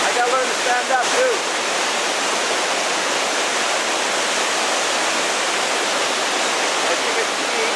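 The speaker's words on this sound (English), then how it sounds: "The water is just crashing magnificently down here." A waterfall crashes into a small carved-out cave on the Johnston Canyon trail in Banff, a loud, steady roar of falling water that fills the space, with a brief voice near the start.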